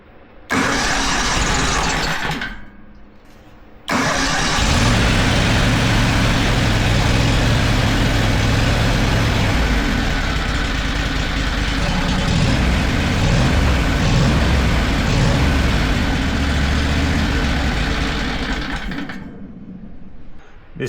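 A small engine on a homemade Arduino-controlled mini skid-steer snowblower roars loudly, cuts out briefly, then restarts and runs at a steady, buzzy drone before shutting off near the end.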